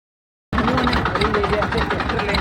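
A farm tractor's engine runs steadily after a sudden start, with a rough, knocking, chugging pulse under the idle and no speech over it.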